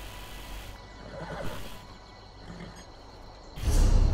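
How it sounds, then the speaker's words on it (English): A sorrel horse mount in the video game Elder Scrolls Online lets out a clear whinnying neigh, followed by a louder low rumble near the end. "Sorrel horse added to mounts."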